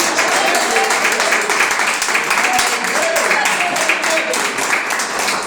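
Church congregation clapping together in praise during a worship service, a dense continuous burst of many hands that stays loud throughout.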